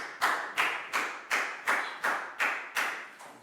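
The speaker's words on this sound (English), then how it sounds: "a big round of applause for Chu" Classroom of young students clapping for a classmate in a primary English lesson: nine sharp, evenly spaced claps in a steady rhythm, close and moderately loud, with no talking.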